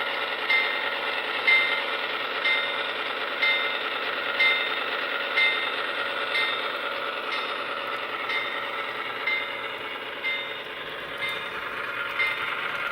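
An HO-scale GE AC6000 diesel locomotive model with onboard sound runs its startup sequence, a steady mechanical diesel rumble with regular metallic clicks repeating roughly every second, heard alone and fairly close.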